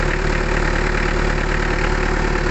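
A Mitsubishi Adventure engine runs steadily at raised revs of about 1,500 to 2,000 RPM during radiator flushing, giving a loud, continuous mechanical hum with a constant low drone and no speech.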